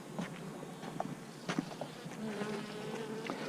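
Honey bees buzz steadily around an opened hive frame full of brood, a dense close insect drone with louder individual fly-bys rising out of the swarm.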